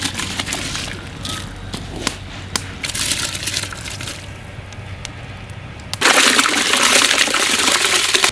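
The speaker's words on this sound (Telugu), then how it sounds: "బాయిల్డ్ వాటర్లో బాస్మతి రైస్ని యాడ్ చేద్దాం." Basmati rice pours into a pot of boiling water for chicken dum biryani, with bubbling and crackling, then a sudden loud rushing splash as more grain or water goes in.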